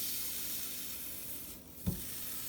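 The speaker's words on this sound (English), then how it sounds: "when you place it down, you should hear that sizzle" A continuous soft sizzle and hiss of a 16 oz NY strip steak cooking in an air fryer, briefly dipping before a faint thud, steady and close.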